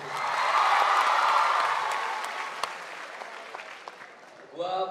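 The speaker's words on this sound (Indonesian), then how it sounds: "Tepuk tangan buat kalian semua guys." Audience applause at a stand-up comedy show in Aceh, a steady wash of clapping that swells loud at first, then gradually thins and fades, with speech coming in near the end.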